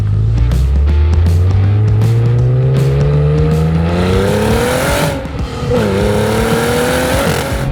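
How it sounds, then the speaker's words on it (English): A Cadillac CT4-V Blackwing does a burnout, its engine rising in pitch from a deep growl to a strained high rev, loud and close, with tire squeal and a brief dip before the revs climb again. "you can do a full burnout for 15 seconds to warm the tires up"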